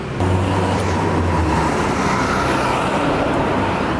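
Street traffic at a Bangkok bus stop, a loud continuous roadway rumble of passing cars and buses with a low engine drone early on, no talk.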